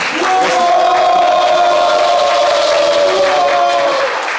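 Studio audience at a French live TV talk show, with a loud crowd roar of cheering and clapping filling the room and sustained shouted voices carrying over it, loud and close throughout.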